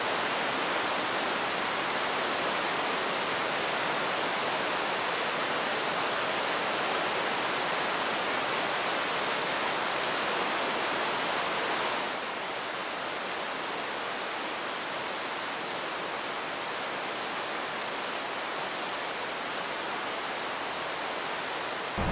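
A waterfall on Bali rushes as a continuous broadband roar, loud and steady, dropping slightly in level partway through, with no voices.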